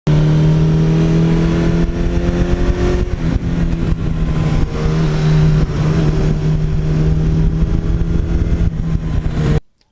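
A 1982 Suzuki GS1100E motorcycle engine runs loud and close, holding a steady throaty idle with rising revs and harmonic whine before cutting off abruptly at the end.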